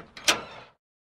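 A door swinging open as a sound effect in a Korean children's audio story of the Frog Prince: a brief swishing, creaky movement peaking sharply, then fading within a second, with no voices.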